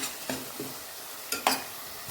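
A spoon stirring sugar into a masala in a pan, a few soft scraping strokes under faint sizzling, ending in a sharper clink of metal.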